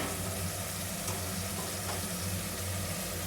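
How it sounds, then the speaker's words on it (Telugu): Tomato pieces frying in a pan for tomato bath, giving a steady, continuous close sizzle with a watery hiss and low hum throughout, with no talking. "ఇలా ఫ్రై చేసుకోవాలి."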